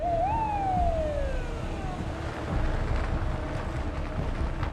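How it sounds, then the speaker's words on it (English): A single police car siren wail rises then slowly falls, heard once at moderate distance over a rumbling, windy background. "a police car appears behind them, flashing its lights and signaling for them to pull over"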